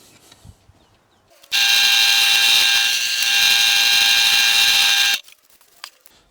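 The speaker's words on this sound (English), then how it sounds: "And over to the drill press we go." Drill press boring 8mm bolt holes in a wooden router table fence part, a steady loud high whine that runs for about four seconds and then stops abruptly, with quiet shop noise before and after.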